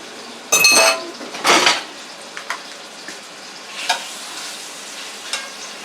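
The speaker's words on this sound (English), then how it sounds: "here's some sizzling" Scallops hit a hot frying pan with a sharp burst of sizzling, followed by quieter frying and occasional clinks of a utensil against the pan.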